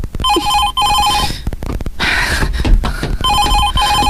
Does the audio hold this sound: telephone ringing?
yes